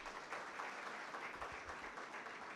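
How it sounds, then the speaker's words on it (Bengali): Steady applause from an audience at a football auction event fills the room, a continuous wash of many hands clapping without a break. "তার জন্য একটা জোরে হাততালি।"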